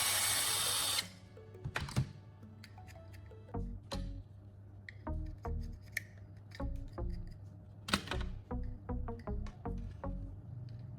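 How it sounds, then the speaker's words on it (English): A small drill boring a hole through plastic phone charger casing, running in short repeated bursts, whirring on and off close up, with brief pauses and a sharp burst at the start. "I'm drilling a small hole through the opposite side of the charger casing"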